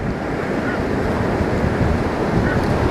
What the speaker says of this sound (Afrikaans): Dit is bij de zee.